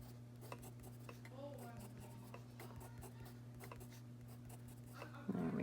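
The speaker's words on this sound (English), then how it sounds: "Using the point of my pencil so they're sharp." Pencil scratching steadily across paper while sketching a cactus, a close, continuous dry rasp of repeated short strokes over a low steady hum.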